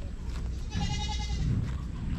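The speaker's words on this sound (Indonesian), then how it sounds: "Saya kurang tahu ini jenis kambing apa ya." A goat with straight horns, a short tail and a short body, seen near a lakeside village in Brunei, gives one drawn-out, quavering bleat over steady low outdoor noise.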